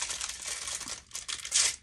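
Packaging paper crinkles and rustles close by as it is folded around a Star Wars Black Series deluxe action figure, in continuous crackly bursts for about two seconds that grow louder near the end.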